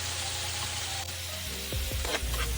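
Ground meat sizzling and frying steadily in a pan for Filipino ginataang laing, with a few stirring scrapes near the end and no talk.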